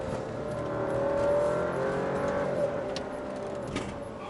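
An Alfa Romeo Stelvio Ti Sport SUV engine hums and strains steadily, swelling slightly as it climbs a hill, heard continuously from inside the vehicle.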